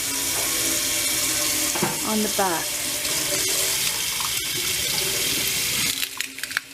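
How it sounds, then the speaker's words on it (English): Steady rushing of a tap running hot water over a pan of ice, continuous and fairly loud, with brief clinks and a few words spoken partway through. "I'm just going to run a little bit of hot water"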